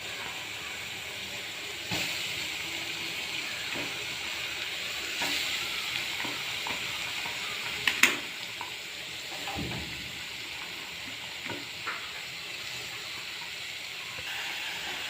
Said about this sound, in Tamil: பீட்ரூட்டு போட்டாச்சு. நல்லா வதங்கணும்.